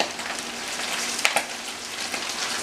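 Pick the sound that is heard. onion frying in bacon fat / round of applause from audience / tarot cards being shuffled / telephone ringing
onion frying in bacon fat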